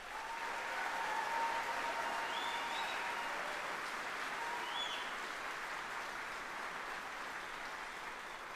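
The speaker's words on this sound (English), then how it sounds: "Please give them a round of applause." An audience applauds at an army retirement ceremony, a steady, fairly distant wash of clapping that carries on evenly, with a faint whistle or cheer rising briefly over it.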